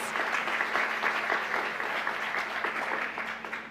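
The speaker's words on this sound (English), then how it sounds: "give yourselves a round of applause" A church congregation applauds steadily and loudly for several seconds, with a dense, even wash of clapping from many hands throughout.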